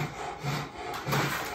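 Hand tool rasping or filing a curve into the end of a wooden guitar fretboard, steady scraping strokes close by, two main pushes with a brief ease between, no talk.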